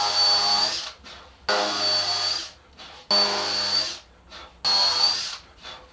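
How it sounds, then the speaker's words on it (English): Power drill boring holes in Sapele mahogany planks during a wooden boat restoration, four loud whining bursts of about a second each with short pauses between them, close by. "I'm going to drill some holes"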